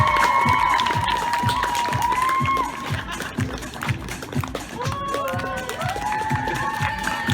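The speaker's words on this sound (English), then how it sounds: "Let's give them one more round of applause." Audience applause and cheering for a school concert cast at an outdoor art park show, a steady crowd roar with clapping and shouts that stays loud throughout, with a rhythmic background beat and high whistle-like tones over it.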